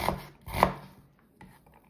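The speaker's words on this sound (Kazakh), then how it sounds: "Осы пиязды енді барынша осылай уақтап турап аламыз." A knife finely chops an onion on a board, giving a few crisp, close cuts, two strong and then a softer one, with no talk.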